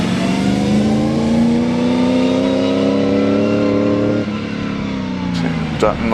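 Bugatti Type 44 racing car accelerating hard at a hillclimb, a loud close engine drone with rising harmonics that holds steady, then shifts pitch near the end.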